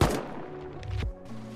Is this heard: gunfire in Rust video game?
yes